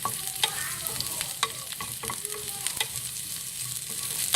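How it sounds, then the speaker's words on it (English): Ginger and garlic fry in a pan with a continuous bright sizzle, close and fairly loud, punctuated by repeated sharp clicks and scrapes of stirring throughout. "Let it fry till the ginger turns a little golden."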